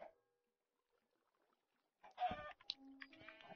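A video game chicken clucks in a short burst of squawky calls, fairly close, after a quiet opening with a faint blip.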